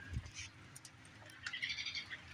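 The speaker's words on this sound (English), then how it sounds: "Listen to the birds." Faint bird chirps and tweets come from a distance, scattered and irregular, over a quiet outdoor background.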